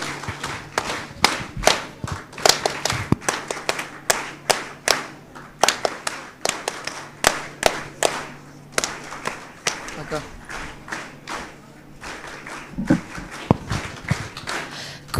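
Audience clapping at a school concluding function in a hall, with sparse, uneven claps from a modest crowd that come in bursts and gaps over a low steady hum, and faint voices now and then.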